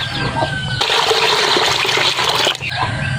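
Water is poured onto fertilizer being prepared for planting cucumbers, a loud steady splashing gush lasting about two seconds, with fainter clucking chickens and outdoor sounds before and after.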